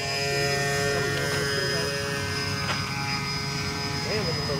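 A Dynam Cessna 310 Grand Cruiser twin-engine RC model plane flies past on its maiden flight with gear lowering, a steady buzzing motor drone holding throughout while a voice talks over it.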